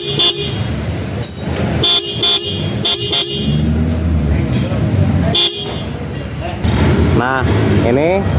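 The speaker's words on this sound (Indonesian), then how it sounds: "Ini pakai klakson Denso yang biasa." Stock Denso horn fitted to a motorcycle in a dual-horn relay setup honks in several short loud blasts, then a longer tone, near and clear, with someone talking between and over the bursts.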